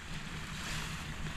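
Waves roll onto an uncrowded beach in Santander, Spain, a steady broadband wash of surf with some wind rumble filling the short stretch and no voices.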